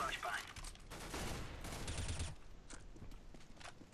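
Gunfire rattles from a CS:GO competitive match on the Nuke map, a burst of loud close shots clustering in the first two seconds and then thinning to sporadic pops, with faint game ambience between.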